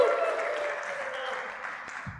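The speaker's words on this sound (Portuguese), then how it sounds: "Batam palmas aí ao Gilcinho" A church congregation claps for Gilcinho, a soft, steady patter of many hands heard from some distance, fading slightly toward the end.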